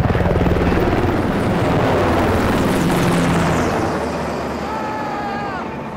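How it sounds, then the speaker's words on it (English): HH-60 Pave Hawk helicopter rotors thumping loudly and steadily, with a deep pulsing drone and roaring engine noise that continues throughout. "We brought in a couple HH-60 Pave Hawk helicopters."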